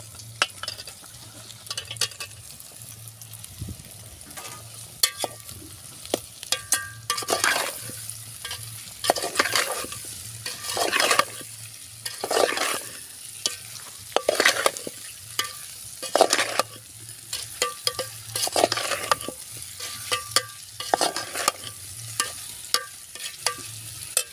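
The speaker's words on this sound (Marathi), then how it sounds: "तेलामध्ये आलू सोडले आहे" Boiled potatoes fry in oil with masala paste for a Shegaon-style bhaji. A continuous sizzle runs throughout, broken by frequent scraping stirs that come in irregular bursts.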